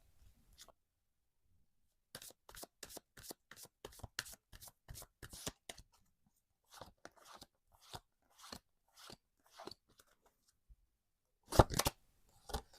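Lenormand cards are shuffled by hand in a quiet room, a run of crisp riffling bursts in a steady rhythm, then scattered softer flicks and a louder final shuffle, close and alone without talk.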